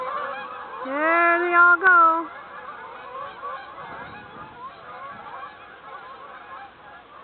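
A flock of geese honks loudly in a burst as the birds take off and fly overhead, then fades into faint distant calls while a voice speaks briefly.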